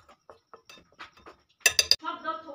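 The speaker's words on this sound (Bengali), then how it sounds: "সব উপকরণগুলো একসঙ্গে খুব ভালো করে মিশিয়ে নেব।" A spoon works spices and ginger-garlic paste together in a bowl, with faint scraping taps followed by three quick bright clinks against the bowl and a short ringing tail.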